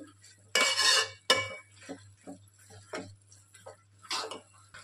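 A spoon scraping and clinking against a pan while stirring ivy gourd chutney with green chilli pieces on low heat, a series of close, irregular metallic taps and scrapes with a steady hum underneath.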